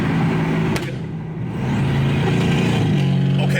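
A BMW 550i GT V8 engine rumbles loudly nearby, dipping briefly before rising again into a strong, sustained revving drone.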